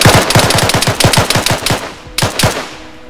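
An airsoft gun fires rapid bursts during a woodland game, loud close shots in a fast rhythmic string, a short pause, then a few more shots.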